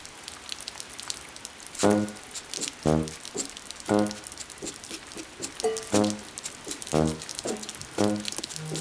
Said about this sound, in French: Les premières gouttes de pluie apportent instantanément un peu de répit